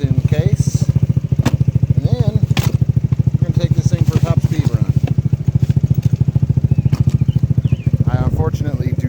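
A longcase 139QMB scooter engine idles steadily while warming up, a close, loud, even putter of rapid firing pulses that holds throughout with slight wavering.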